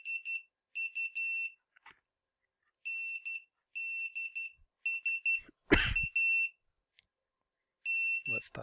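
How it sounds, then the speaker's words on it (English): A Raspberry Pi Pico driving a buzzer beeps out Morse code, a clear shrill tone in short dots and longer dashes grouped with pauses, heard close and alone apart from a sharp click partway through. "I've got Morse code."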